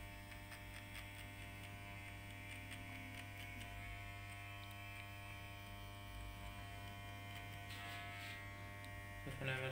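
An electric hair clipper set to a 0.2 guard drones with a steady, quiet buzz and mains hum throughout a barbering session, with faint low speech and a louder burst near the end.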